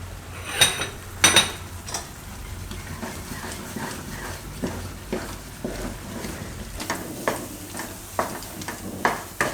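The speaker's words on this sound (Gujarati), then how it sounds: "તો આને આપણે આ રીતનું એકદમ લચકા જેવું થઈ જાય ત્યાં સુધી પકાવવાનું." Thick peanut barfi mixture cooked down in a pan, with repeated spoon scrapes and knocks against the metal over a soft bubbling background.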